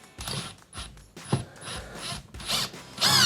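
A screw driven down through a carpeted or hardwood floor into the subfloor and joist, heard as a series of short ratcheting, grinding bursts that build to a louder final stretch.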